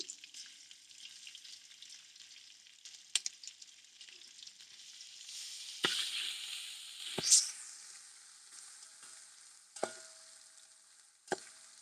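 A spoonful of fresh ginger sizzles quietly in hot oil in a pan for coconut rice, a soft steady hiss with a few sharp utensil taps and stirring swells, no voices.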